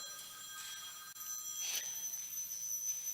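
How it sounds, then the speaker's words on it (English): A telephone rings faintly in the background of a quiet room, its trilling bell repeating in soft bursts under a steady hiss. "Somebody answered a phone."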